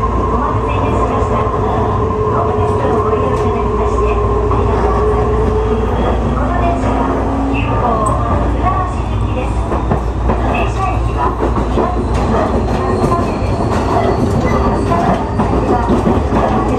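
An Urban Park Line train departing Omiya station rumbles steadily with rhythmic wheel clatter and faint squeals as it pulls away, a continuous loud mechanical drone throughout.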